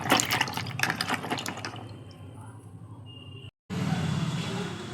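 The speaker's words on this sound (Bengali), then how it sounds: "কাটার আগে আমি ঢ্যাঁড়সগুলোকে ভালো করে হাত দিয়ে লগড়ে লগড়ে ধুয়ে নেব" Okra rubbed clean by hand under a running tap: splashing water and wet scrubbing noises for a few seconds, then a brief cut and a steadier flow of running water.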